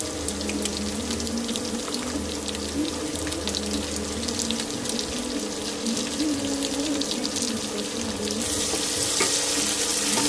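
Chopped onion frying in a pan on an induction cooktop while a Marathi festive meal is cooked, giving a steady close-up hiss and crackle with a rushing, water-like texture that swells toward the end.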